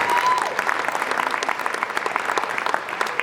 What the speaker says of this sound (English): round of applause for the percussion.